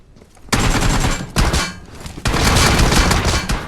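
Rapid automatic gunfire from a multiplayer shooter video game, loud bursts of sustained firing with brief gaps between them, close and dense, with no talking over it.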